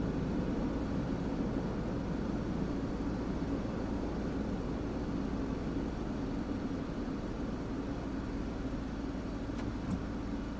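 An F-16 jet engine spooling up in the DCS flight simulator: a loud, continuous roar with a thin steady high whine above it, unbroken for about ten seconds.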